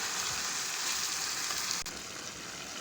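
Beef keema frying in oil gives a steady, fairly loud sizzle with a single sharp click near the end, and nobody talks.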